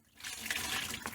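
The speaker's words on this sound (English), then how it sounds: "I'm just going to spill this old fluid out." Old brake fluid poured out of a car's brake master cylinder reservoir, a short liquid splashing and trickling sound like water from a tap, close and steady for about a second.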